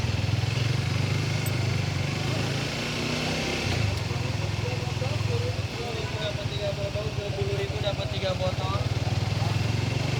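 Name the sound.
motorcycle engine revving before crossing by ferry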